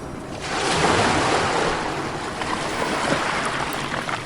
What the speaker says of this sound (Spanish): cómo las olas vienen y van